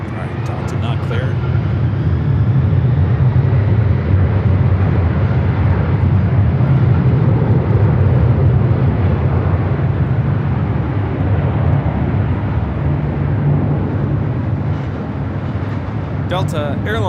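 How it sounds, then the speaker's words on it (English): A Delta Boeing 767-300ER takes off at Los Angeles International bound for Atlanta, its jet engines a loud, sustained broadband roar with strong low rumble holding steady throughout. "Delta Airlines 528 taking off to Atlanta on the 767-300ER."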